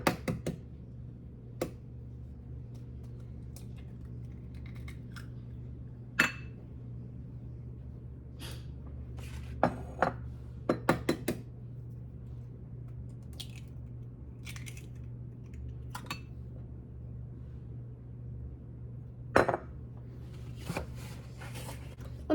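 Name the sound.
chopping walnuts with a knife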